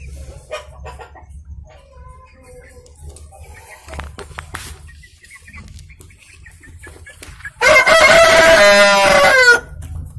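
Ayam Kampung village chickens in a backyard coop: a loud, close rooster crow rings out alone late on, after quieter clucks and faint scattered farmyard noises.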